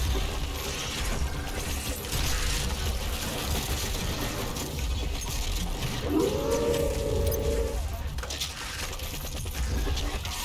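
Demon dogs in the game Doom Eternal let out a rising, sustained howl over loud, dense game noise, with a yipping quality amid the surrounding combat din.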